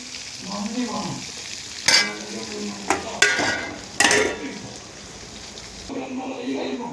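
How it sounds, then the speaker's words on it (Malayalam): Chicken frying in a pan with hot oil, a loud close sizzle punctuated by sharp bursts as pieces are stirred or turned, while a person talks between the flare-ups. "ചിക്കൻ പൊരിക്കുന്നു"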